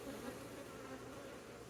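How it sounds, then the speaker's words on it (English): Honey bees swarm over eight hive frames in a strong colony, giving a steady, dense buzzing drone that stays close and even throughout, with no talking. "all 8 are completely covered in bees"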